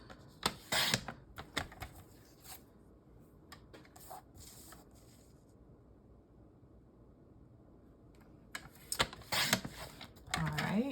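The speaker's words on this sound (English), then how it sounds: "with this piece, we're gonna cut at 4 1/4 by 3 7/8" Cardstock is cut on a paper trimmer in short bursts of sharp slicing and rasping, near and fairly quiet, separated by a hushed pause in the middle.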